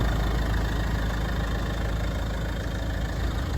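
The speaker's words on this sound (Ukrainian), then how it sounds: "Ну, Друзі, як чути, двигун тут працює." A car engine idles steadily at close range, a continuous low rumble with a faint knocking undertone and no voices.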